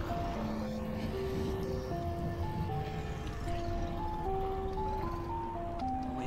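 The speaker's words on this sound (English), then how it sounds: "I'll wait until that ice cream truck crashes," An ice cream truck in the video game Decimate Drive plays its jingle, a steady stepping tune of clear tones over a constant engine rumble, loud and continuous throughout.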